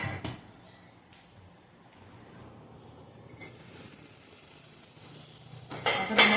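Water boiling in a pot for chicken mandi rice gives a steady bubbling hiss that builds gradually and turns loudest near the end, with no talking.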